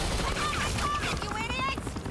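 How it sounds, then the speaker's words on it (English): Gunfire in the video game Batman: The Enemy Within, a short loud burst of shots mixed with mechanical clatter and overlapping voices. "you cops can't just shoot people like that"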